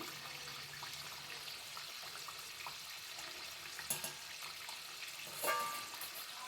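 Aloo samosas fry in hot oil, a faint, steady bubbling sizzle with a couple of brief louder crackles, no voices.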